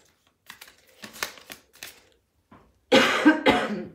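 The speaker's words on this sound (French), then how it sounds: "je tousse encore un peu" Two loud, harsh coughs in quick succession from someone still recovering from illness, preceded by faint rustling and a few soft clicks.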